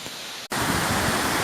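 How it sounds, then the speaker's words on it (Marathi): Vajrai waterfall, a very tall cascade, heard as a sudden dense roar of rushing water that starts after a brief cut and continues loud and steady. "हा जो धबधबा आहे वज्राईचा"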